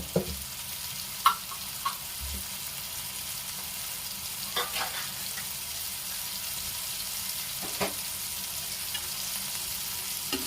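Tomatoes cooking in hot oil for poha bateta give a steady, soft sizzle with a few faint stirring clicks and scrapes, fairly quiet and with no talking.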